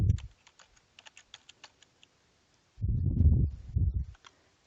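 Quick, light keystrokes on a computer keyboard, including Control S shortcuts pressed while saving a database table, tap in an irregular run close by, followed by a louder low rumbling burst.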